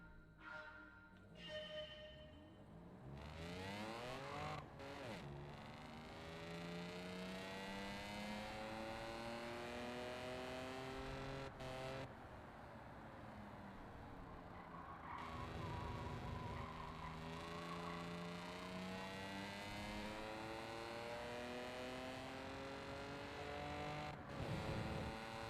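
A race car engine in Gran Turismo 7 revs and accelerates, rising through gears with sweeping pitch climbs and brief drops at each shift, loud and close for the whole stretch, with tire skids in places.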